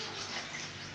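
Mineral water pours into a cooking pot in a brief, close, steady rush that lasts under a second with no pauses.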